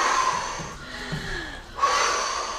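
A girl recovering from choking draws sharp, ragged gasps, two loud heaving breaths with a quieter snorting inhale between them, close up and alone.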